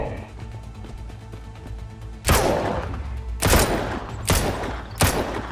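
Revolver shots in the survival video game Mist Survival: four loud, sharp gunshots with ringing tails, spaced about a second apart, after a quieter stretch of low game ambience.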